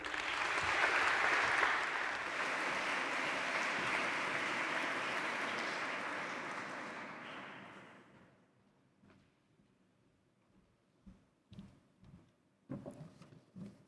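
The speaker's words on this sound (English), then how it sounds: "Please join me in a round of applause for Patricia Lozano." An audience at a university welcome event for a new undergraduate class gives a loud, sustained round of applause that fades out after about eight seconds, leaving scattered small knocks and faint movement.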